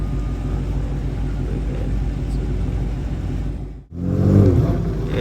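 A Dodge Hellcat at a car meet, its engine rumbling steadily close by, then a sudden dip and a loud surging rev, with no one talking.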